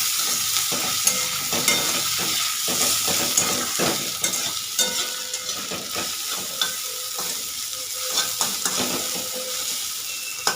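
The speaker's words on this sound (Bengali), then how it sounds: "এই যে পেঁয়াজটা মোটামুটি ভাজা হয়ে গেছে, তারপরে আমি দিয়ে দিয়েছি এর মধ্যে আদা রসুন বাটাটা" Onions fried with ginger garlic paste sizzle steadily in a pan while a spoon stirs and scrapes them, giving repeated sharp clicks over the continuous frying hiss.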